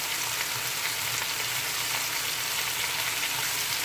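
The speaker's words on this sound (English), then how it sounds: "I'm just cooking it in the olive oil" Oxtail cooking in olive oil in a pan for Jamaican-style curry oxtail, giving a steady, dense sizzle that stays even and close throughout, with no voices over it.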